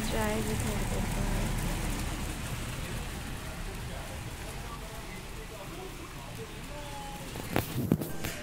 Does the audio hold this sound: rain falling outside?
yes